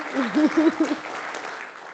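Audience applause at a business summit, a burst of clapping from the crowd with a voice sounding over the start before it settles into a steady, moderate patter.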